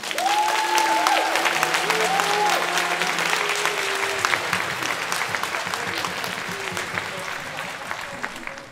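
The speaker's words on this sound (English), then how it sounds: "So I think they deserve another round of applause." Sustained applause from the audience after a Purple Symphony performance at the National Gallery Singapore, steady dense clapping that gradually tapers, with a few voices calling out and singing faintly beneath it early on.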